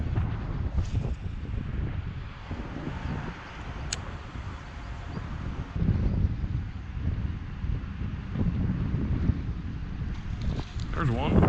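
Steady gusty wind buffets the microphone on a lake during bass fishing from a boat, a continuous low roar with rustling surges lasting the whole stretch.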